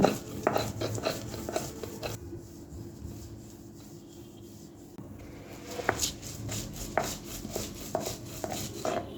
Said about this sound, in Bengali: আমি শিলপাটায় বেটে নিচ্ছি